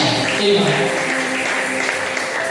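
A church congregation at a spiritual warfare worship service breaks into applause, steady clapping that fills the room at moderate loudness for a couple of seconds.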